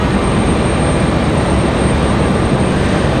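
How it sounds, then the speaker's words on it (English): Delta A319 airliner arriving at Raleigh-Durham on a stormy evening after a flight from Orlando, a steady loud broadband engine roar that holds constant throughout with no talk. "Delta 1370 is going to be our next arrival."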